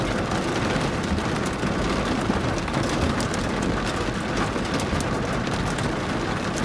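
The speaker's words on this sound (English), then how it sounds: "I'll let some of this rain fall" Steady rain falls during a severe thunderstorm in Colorado Springs, a constant, even hiss of downpour that fills the scene, with no voices.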